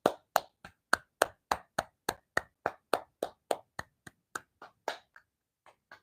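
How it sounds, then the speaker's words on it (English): Hands clap about twenty times at a brisk, even beat during a qigong stress-relief lesson. The claps start sharp and close, then thin out and slow near the end. "then we're going to start by clapping"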